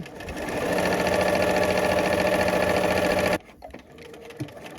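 A sewing machine back stitching at the start of a seam hums in one loud, fast, continuous run for about three seconds, then stops abruptly, followed by a few light clicks.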